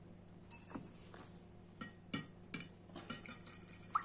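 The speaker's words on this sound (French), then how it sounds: "On va bien fouetter." A whisk or spoon beats a mixture containing olive oil in a bowl, giving a short run of irregular clinks and scrapes against the side, close and fairly quiet.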